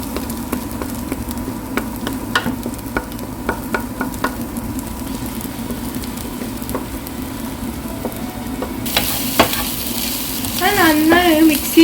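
Moringa leaves cook in a pan with a low, steady sizzle and occasional spatula taps, and a stronger burst of sizzling and clatter builds near the end.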